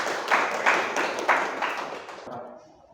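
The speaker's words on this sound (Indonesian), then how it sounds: "Ya, tepuk tangan." A classroom group gives a short burst of hand clapping with a few stronger claps, fading out after about two seconds.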